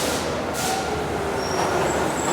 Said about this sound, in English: the noise and rush of the incoming train